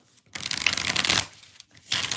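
Tarot cards are shuffled by hand in quick riffling bursts, two distinct crisp flurries separated by a short pause, close and fairly quiet with no talking.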